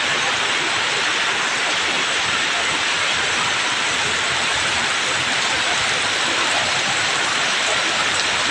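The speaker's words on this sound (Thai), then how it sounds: "บรรยากาศยามเย็นฝนตกอีกแล้ว" Steady evening rain pours at a used car market, a dense even hiss that stays constant and fairly loud throughout with no clear voices.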